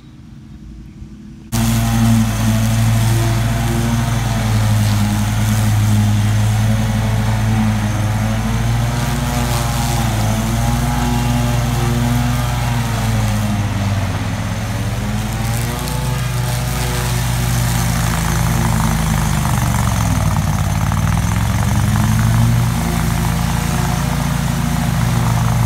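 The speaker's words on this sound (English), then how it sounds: "So Chase went and got the mower." A lawn mower starts up and runs steadily while mulching wet grass, its loud, close engine drone holding a constant pitch with slight load dips throughout, and no voices.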